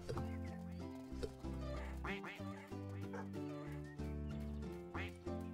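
Repeated electronic duck quacks over a steady looping melody in the video game No Place Like Home, clean, the quacks popping up several times through the tune.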